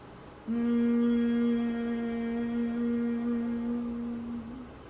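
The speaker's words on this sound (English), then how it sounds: "you'll create a humming vibration or a bumblebee vibration with the vocal cords" A person hums one long, steady, buzzing tone for about four seconds, like a bee, at an even pitch over a faint background hiss.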